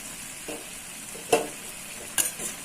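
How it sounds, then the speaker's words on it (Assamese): Chicken masala Maggi noodles stirred in a cooking pot, with a few soft scrapes and two sharper spoon clinks against the pot over a low, steady background, close and fairly quiet. "অলপ লৰাই দিছোঁ।"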